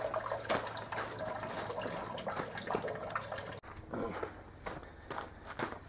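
Water runs steadily into a new plastic pail being filled for a rocket stove shower outdoors, a continuous splashing rush with scattered knocks and thumps throughout, moderately loud and close.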